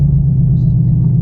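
A cammed C7 Corvette engine gives a deep, loud, steady rumble at close range for a brief moment, with no talking.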